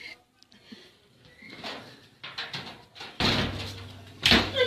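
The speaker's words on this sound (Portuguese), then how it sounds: "Fechou a porta, eu acho, né?" A door is shut indoors after soft shuffling and handling noises. It ends in two loud, close thuds, the first one a heavy slam.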